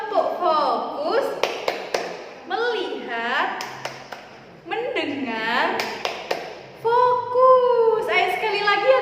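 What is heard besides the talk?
rhythmic hand clapping game "tepuk fokus"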